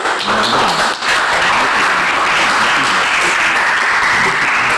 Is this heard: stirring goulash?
no